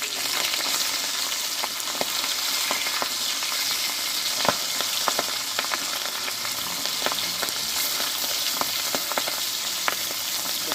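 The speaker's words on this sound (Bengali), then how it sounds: "আমি ধীরে ধীরে মাছগুলো ভালোভাবে দুই পিস ভেজে নিয়েছি" Pabda fish sizzles steadily in hot oil in a pan, with scattered pops and crackles throughout and no voices.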